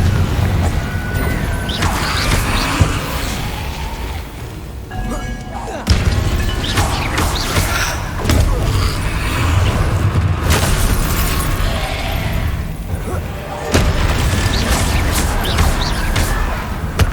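Confringo blasting curses exploding in Hogwarts Legacy, loud crashing blasts and impacts in repeated bursts amid dense battle noise, with short pauses between volleys.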